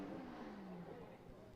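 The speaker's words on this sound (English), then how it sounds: "That 2JZ roaring" Toyota 2JZ engine revving hard in a drift car at a drift clinic and showcase, a sustained loud roar holding steady with a slight pitch sweep, mixed with crowd noise and talk.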